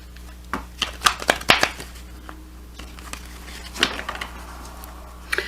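Brisk riffling bursts of tarot cards being shuffled, a cluster of quick flicks early on, then scattered softer snaps, close up with low background hum.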